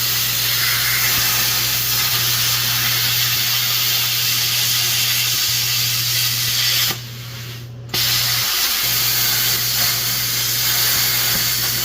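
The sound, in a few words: plasma cutter cutting metal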